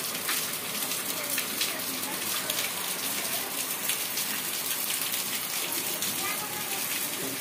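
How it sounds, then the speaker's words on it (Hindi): A steady hiss of heavy rain pours without letup in an Uttarakhand village, a dense wash of drops falling on surfaces nearby. "ये देखिए कितनी मोटी बारिश लगी हुई है"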